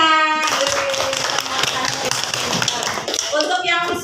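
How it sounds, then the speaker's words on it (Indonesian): Children in a classroom clap their hands together, a busy, sustained patter of many small claps with a voice audible at the start and end. "Ya tepuk tangan semuanya."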